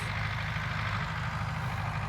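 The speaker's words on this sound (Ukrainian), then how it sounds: "там десь їде тракторець" A tractor drives somewhere nearby during field cultivation for soy. Its low, steady engine rumble stays constant and moderately distant throughout, with no talk.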